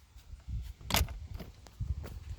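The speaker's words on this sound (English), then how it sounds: "close the door." A back door swings shut with a short thump outside a house, followed by a few soft scuffs and footsteps, no voices.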